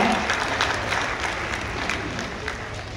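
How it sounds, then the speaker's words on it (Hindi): Applause from a crowd at an award ceremony during a khadi and Saras festival closing, a steady dense wash of clapping held at a constant level for the whole stretch. "जोरदार तालियां"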